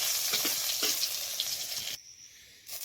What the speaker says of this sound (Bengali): এই শুকনো লঙ্কাগুলো আমি ভেজে নেব।